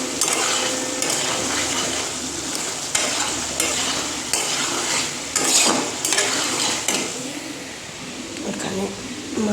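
Cauliflower and potato curry being stir-fried in a pan, with a continuous sizzle and repeated scraping and clattering of a spatula against the pot, close and busy, while a person talks over it.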